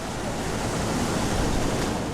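Ocean waves at Manje island, a dense, steady wash of surf and wind-blown spray, close and continuous with no breaks.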